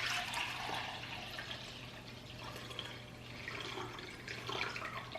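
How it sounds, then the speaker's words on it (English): Pickle juice pours into a bowl as part of preparing a fried chicken bowl at home, a steady broadband liquid splash and trickle running continuously at moderate level over a low hum, with no talking. "So I'm going to add my pickle juice in here."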